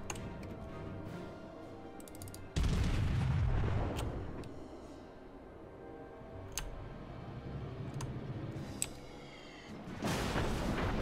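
Naval gunfire in the World of Warships video game, with heavy booming salvos that bloom into broad rumbling blasts, separated by quieter stretches of ambient game noise and small clicks.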